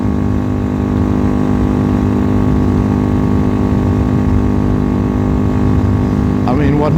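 A Megelli 250r motorcycle engine hums at steady throttle, a constant loud drone with continuous wind rush and no gear changes.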